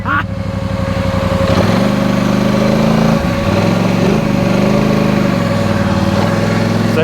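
A Polaris Sportsman 850 Highlifter ATV churns through thick Texas mud, its engine droning steadily at low RPM with slight surges, loud and close throughout the clip.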